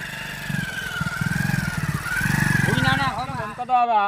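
A motorcycle engine throbs nearby with a pulsing low rumble while voices talk loudly over it.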